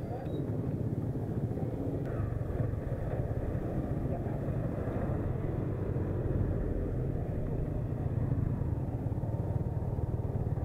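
A Yamaha R15 V3 motorcycle on a test ride near Patar Beach, steady engine drone and wind rumble held at a constant level the whole time, heard from on the bike.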